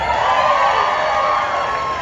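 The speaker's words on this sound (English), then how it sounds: "It's like a half boo, half clapping situation." A Broadway audience responds to performers with a loud, continuous crowd roar of mixed boos, cheers and clapping, sustained and dense throughout.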